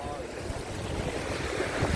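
Rough, mountain-high sea waves break against the shore rocks at Adeulbawi in Jumunjin, Gangneung, in a continuous close, churning wash mixed with wind noise, while a voice speaks faintly underneath.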